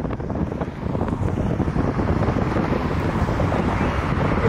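Strong wind buffets the microphone outdoors at Cleveland Hopkins International Airport, a steady, loud, rumbling roar that continues throughout with no voices.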